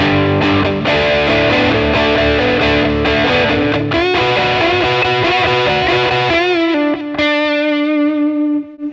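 Xaviere XV-560 electric guitar on its middle pickup through distortion, loud sustained driven chords and ringing notes played continuously, with a little hum, close and alone without talking.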